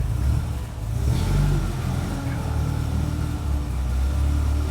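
A classic car engine rumbles loudly and steadily, with a deep low throb and a brief rev that rises and settles again.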